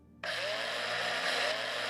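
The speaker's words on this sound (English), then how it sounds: "Drill required." A drill whirs inside a video game spaceship, kicking in abruptly from near silence to a steady high whine that holds for nearly two seconds.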